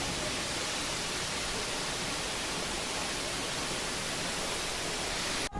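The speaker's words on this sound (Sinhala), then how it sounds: "ඉතින් මේ ඇල්ලේ උස අඩි 50ක් පමණ වෙනවා කියලා තමයි සඳහන් වෙන්නේ" Athini Ella, a waterfall about 50 feet high near Mandaram Nuwara in Sri Lanka, gives a steady, loud, unbroken roar of falling water that holds even throughout, with no voices.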